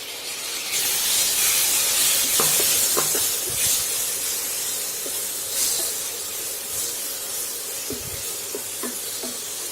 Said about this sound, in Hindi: उसके बाद हम इसमें टमाटर डाल देंगे